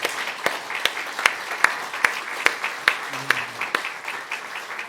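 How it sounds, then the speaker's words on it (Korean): Applause from a congregation at a church founding service, with steady rhythmic claps in near-unison and a brief low voice partway through. "우리 크게 한번 여러분들 박수 한번 해주시기 바랍니다"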